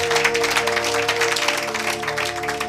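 A church congregation at a Sunday service applauding, with dense, steady clapping that runs throughout over sustained musical tones.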